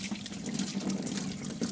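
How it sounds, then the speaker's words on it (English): Coolant drains steadily from the water pump of a 2006-2008 Audi A4 2.0T during a timing belt and water pump replacement, a continuous close, even trickling stream of liquid with no talking. "Let the coolant drain slowly."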